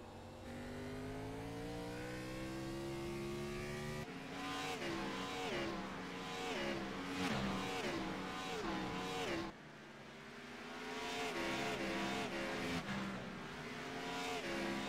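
Race cars accelerate hard on a circuit, engines roaring loud and steady with rising and falling revs as they pass close, multiple cars overlapping throughout.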